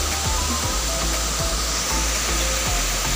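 The Laliako waterfall in West Sinjai gives a steady, close, broadband roar of falling water that stays constant throughout, with no voices.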